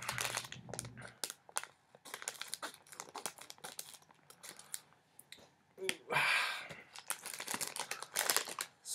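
Crinkly blind bag package for Power Rangers Super Samurai mini figures being cut open with scissors up close: bursts of crumpling plastic, snips and rustles, fairly quiet and uneven, without talking.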